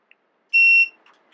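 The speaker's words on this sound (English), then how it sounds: "hold the set button down until it beeps" A TST 507 tire pressure monitor display gives a single loud, steady electronic beep of about a third of a second as its set button is held, with near silence before and after.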